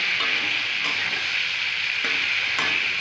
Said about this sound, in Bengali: এবার এটাকে পুরো নাড়াচাড়া করে দেবো, যাতে পুরো মশলাটা মেখে যায় আলুর গায়ে